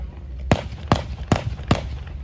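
Four sharp rifle shots crack out at a steady, evenly spaced pace during a WW2 battle reenactment with Mauser 98 rifles and BAR, loud and close over low outdoor rumble.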